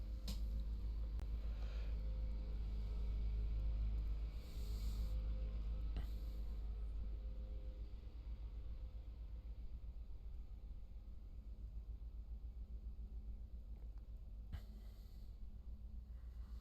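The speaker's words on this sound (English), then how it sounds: "Don't mind the lawnmower." A lawnmower drones steadily in the background throughout, a constant low engine rumble that eases slightly partway through, heard during a jiu-jitsu training session between a blue belt and a white belt.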